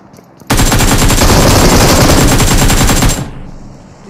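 A loud machine gun in the mobile battle royale game PUBG Mobile fires a rapid, continuous burst of about two and a half seconds, then stops abruptly, leaving a fading tail.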